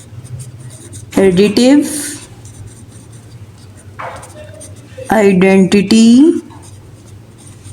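Handwriting scratches on a board or paper during a Class 8 math lesson, faint and intermittent beneath a voice talking in Hindi.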